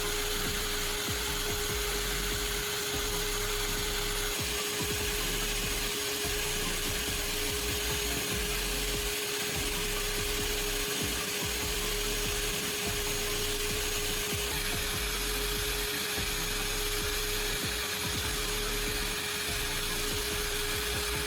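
A steady, continuous grinding whine of a coarse-grit power tool sharpening a steel pruning shear blade, droning evenly without pause and fairly loud throughout.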